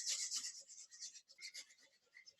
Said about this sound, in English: So you're just going to grate 50 grams of carrot.